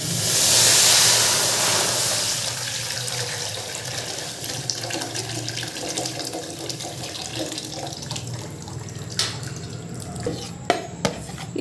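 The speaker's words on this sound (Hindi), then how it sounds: "अब कढ़ाई के अंदर मैं इसको डाल दूंगी।" Soaked food slides wetly into a kadai wok, a watery sloshing and splashing that starts loud and settles into softer churning, with a few sharp metallic clinks of utensils near the end.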